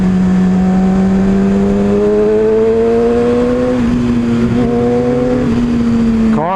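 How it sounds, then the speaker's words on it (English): Cars in video game traffic, with a loud, steady engine drone whose pitch climbs slowly and shifts as vehicles pass nearby, ending in a brief sharp rise. "There's way too many cars."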